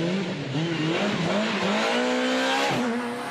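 A Skoda rally car drives hard on a tarmac stage of the Janner Rally, its engine loud and close as it revs, with rising and falling pitch through gear changes and a brief squeal of tyres.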